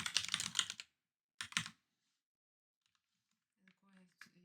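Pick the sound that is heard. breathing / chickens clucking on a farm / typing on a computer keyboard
typing on a computer keyboard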